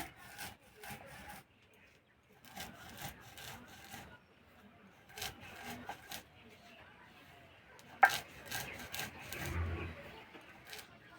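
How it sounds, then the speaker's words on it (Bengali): Roasted spices are ground by hand in short, rough scraping strokes that come in grouped bursts with pauses between them, close and fairly quiet, with a voice now and then. "এবার ভাজা মশলাটা গুঁড়ো করে নেব"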